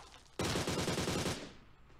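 A rapid burst of automatic gunfire from bots in PUBG Mobile, about a second of close, loud rattling shots that cut off and fade.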